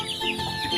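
One-month-old Rhode Island Red chickens cluck and peep close by in a brief, busy burst of soft chirping.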